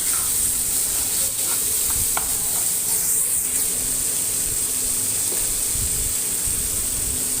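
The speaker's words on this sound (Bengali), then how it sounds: "তেলটা গরম হয়ে গেলে কামরাঙাটাকে আমি হালকা করে প্রথমে ভেজে নেব" Starfruit frying lightly in hot oil in a home kitchen, giving a steady, even sizzle and hiss that runs without a break, with faint stirring clicks and no voices.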